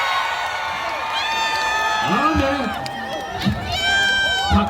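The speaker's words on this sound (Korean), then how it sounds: "여러분 박수 함성" A festival crowd at the 2023 Wolgot port festival cheers and applauds for a trot singer. The shouts, whoops and high excited voices are loud and rise in waves over continuous clapping.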